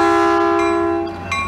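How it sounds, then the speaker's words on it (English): A train horn blares loud and steady as a train passes Burlingame station, holding a rich chord before tapering off near the end over rumbling track noise. "Train"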